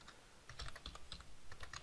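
Quick, continuous typing on a computer keyboard while writing JavaScript code, close-up key clicks in an uneven rapid rhythm, faint overall with no voice.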